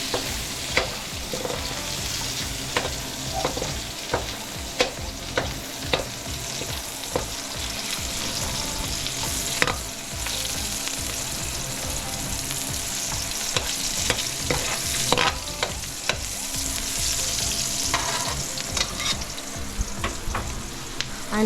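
Onions fry in a pan for pancit bato, a constant close sizzle broken by frequent clicks and scrapes of a utensil stirring, with no one speaking.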